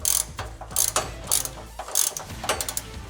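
Torque wrench tightening the bracket bolts of Luverne O-Mega II side steps on a GMC Savana van, with bursts of close, crisp ratcheting clicks in quick repeated strokes and brief pauses between them.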